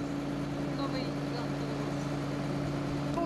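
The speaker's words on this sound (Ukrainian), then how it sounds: "працює комбайн, а йому на зміну – трактор" A farm tractor engine runs steadily during the grain harvest, a continuous near drone with a low hum and mechanical rumble, alone without talk.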